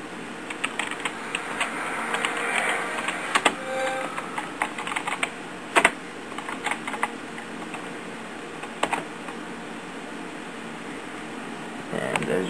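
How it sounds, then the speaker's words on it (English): Typing on a computer keyboard while entering a command in DOS to flash an Xbox 360, a run of irregular clicky keystrokes close up over a steady fan hum, with a few louder key strikes. "I can type the SAM read command."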